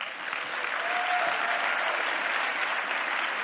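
An audience applauds in a steady, dense wash of clapping that holds at an even loudness for a few seconds, with no talk over it.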